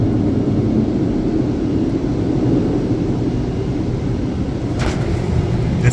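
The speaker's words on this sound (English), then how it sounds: "I think this is dry round. They're blowing air." Robotic car wash blowers in South Korea drying a car, a loud, continuous roar of rushing air that stays steady and close from start to finish.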